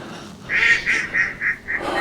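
Ducks at a full backyard duck pond give a run of about five loud, nasal honking quacks in a quick rhythm, close by, with no talking.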